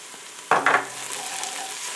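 Chopped garlic, Hungarian paprika and leaf marjoram hit a pot of tender onions, giving a couple of sharp stirring clatters followed by a soft, steady sizzle close by.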